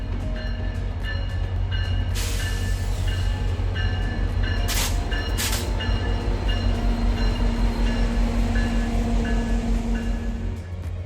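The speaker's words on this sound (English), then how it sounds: "Via's Jasper to Prince Rupert train is about to begin its 2-day trip through Alberta and" Via Rail's Jasper to Prince Rupert passenger train departs with a steady rumbling, low engine drone, broken by a few brief bright hissing bursts from air brakes or couplings, with no voices heard.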